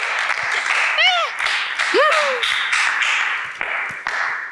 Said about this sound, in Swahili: Jamani naomba wapigeni makofi watu wa geography.